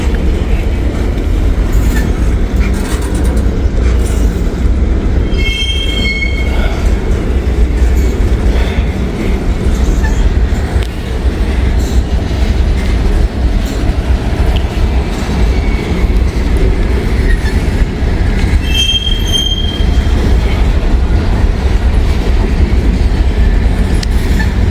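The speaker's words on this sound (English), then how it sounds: "you can tell it's a really empty, lightweight train" An empty, lightweight train rolls steadily past at close range in Ohio, a continuous loud rumble of rail noise with high wheel squeals rising briefly twice over the din.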